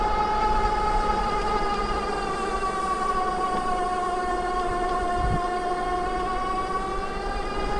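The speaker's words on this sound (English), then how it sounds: "motor definitely has, you know, like some sound, some whine to it" A Specialized Globe Haul ST e-bike's motor climbs a steep hill with a steady, high tonal whine carrying several harmonics, dipping slightly in pitch partway through over a low rolling rumble.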